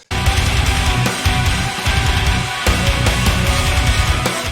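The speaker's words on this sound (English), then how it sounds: "This is just like a mid-tune snare in a great sounding room," Loud, hard-hit melodic death metal drums with a big, roomy mid-tuned snare cracking over a punchy natural kick, with dense cymbal wash filling the top.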